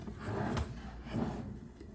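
A hotel room drawer in a Hyatt House in Orlando slides open or shut with two soft wooden rubbing pushes, close and fairly quiet, with no one talking.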